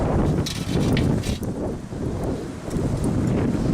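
Wind buffeting the microphone in heavy, rumbling gusts, loud and continuous throughout with no voices.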